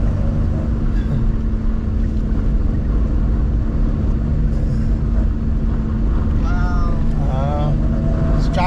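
A vehicle drives over beach sand dunes, its engine a steady, loud drone that runs throughout, with brief voices near the end.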